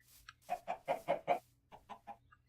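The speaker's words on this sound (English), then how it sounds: "There are some chickens here." Chickens cluck in the TerraFirmaCraft Minecraft video game. A quick run of five loud, evenly spaced clucks is followed by three softer ones, with no talk over them.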